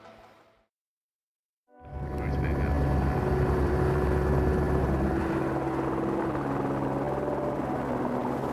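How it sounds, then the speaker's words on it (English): Helicopter carrying anglers into New Zealand backcountry for a fly-fishing trip, its engine and rotor roar starting abruptly after a brief quiet moment and then holding loud and steady close by. "another chopper ride"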